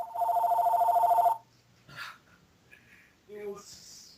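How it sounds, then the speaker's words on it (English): A house phone's electronic bell rings in a steady burst for over a second, then stops, followed by scattered small noises and a short voice sound. "No, set the phone to vibrate. This is a house phone."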